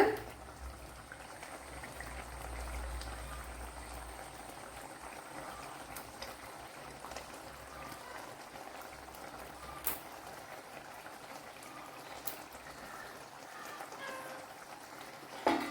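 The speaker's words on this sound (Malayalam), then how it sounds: "ഇപ്പൊ ഞാൻ തീ ഓഫ് ചെയ്ത് എന്നിട്ടും അത് തിളച്ചുകൊണ്ടിരിക്കുകയാണ്" Soft, continuous bubbling of thick fish curry still simmering in a pot after the heat is switched off, fairly quiet, with an occasional faint tap or click.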